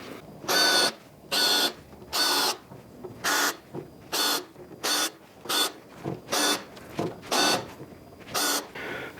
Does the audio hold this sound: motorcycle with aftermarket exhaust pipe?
no